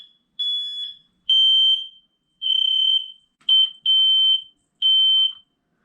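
A household smoke alarm sounds loud and close during a system test, giving six shrill, steady electronic beeps in short uneven bursts with brief gaps between them.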